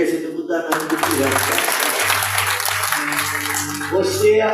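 Congregation clapping and applauding in a church service, a dense sustained wash of claps heard together with music and voices over it.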